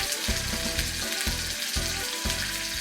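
A piece of pork sears in hot oil with a loud, dense, continuous sizzle, close to the listener, overlaid by a low pulsing rhythm that repeats about every half second.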